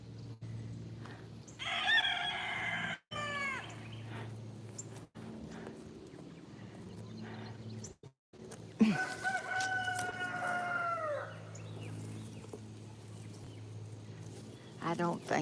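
Outdoors in a Georgia yard, a rooster crows twice, clearly and at moderate distance, while hens cluck and someone talks throughout.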